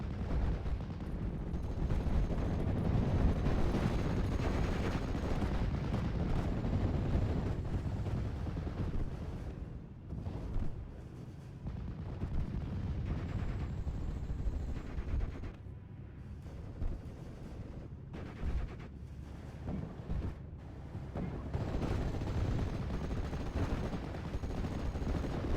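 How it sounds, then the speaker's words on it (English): Sustained MG-34 machine-gun bursts and rifle fire rattle through a World War II battle video game, dense and loud, with explosions and brief lulls in the barrage. "The MG-34 should start laying into them, keeping the suppression up high"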